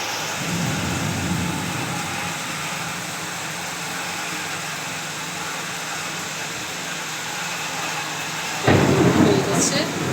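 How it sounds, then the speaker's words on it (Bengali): A thunderstorm outside keeps up a continuous, dense roar of heavy rain, with a deeper, louder rumble swelling near the end. "এখন একটু কমেছে বৃষ্টি"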